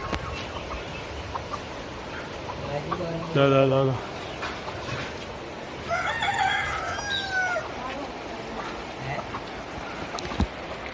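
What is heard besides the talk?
chickens clucking and rooster crowing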